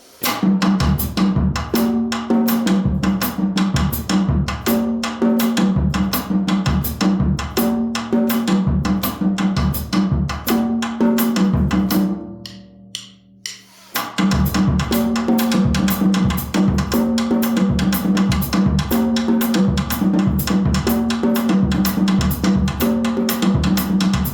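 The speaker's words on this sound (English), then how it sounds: "So, that's the cascara." A steady, driving cascara percussion pattern for guaguancó in 4/4, with sharp repeated hits over low drum accents, pausing briefly midway before resuming at the same tempo.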